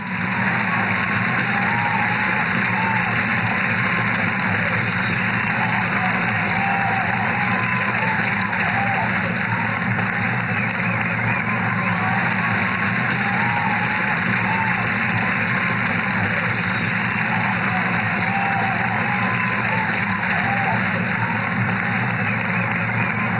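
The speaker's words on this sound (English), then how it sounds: "let's have a great big warm round of applause for all of them" Audience applause for music department seniors at a music honor society award ceremony, a steady, dense wash of clapping with some cheering that holds at even loudness for the whole stretch.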